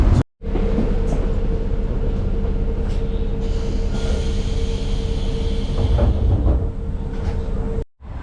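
Continuous rumble of a train in motion in Japan with a steady tonal hum and occasional clacks, heard from inside, loud and sustained.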